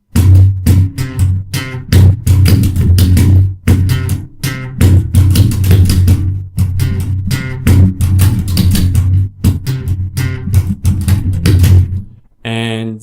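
Slap bass guitar riff, played alone as a fast, percussive run of popping and thumbed notes with tight rhythmic gaps, ending in a brief pause and a short final hit.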